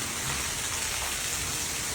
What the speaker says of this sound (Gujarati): આખો ચોમાસું જ્યું પણ આવો વરસાદ નહીં આવ્યો. આજે આવ્યો છે પહેલી વાર.